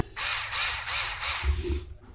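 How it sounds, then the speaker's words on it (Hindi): A small handheld drill tried out in short bursts: three or four whirring runs in even rhythm, close and fairly loud, followed by a lower rumble as it winds down, with no talking. "ओह, एक छोटी सी ड्रिल। जरा चेक करें।"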